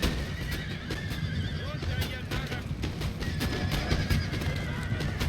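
A horse whinnies amid a cavalry battle in Napoleon: Total War, with clip-clopping hooves and scattered sharp gunfire cracks layered over a busy, continuous battlefield din, and a voice talking underneath.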